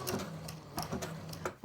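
A sewing machine runs slowly, zigzag stitching an appliqué motif onto base fabric, its needle thumping in a steady mechanical rhythm, close and clear with no talking.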